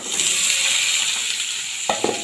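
Crab frying in a pan with garlic and chillies gives a loud, steady sizzle throughout, with a couple of sharp clicks near the end from a utensil or shell knocking the pan.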